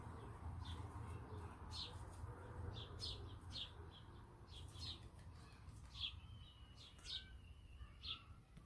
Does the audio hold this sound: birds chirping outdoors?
yes